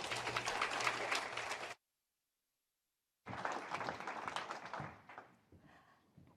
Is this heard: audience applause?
yes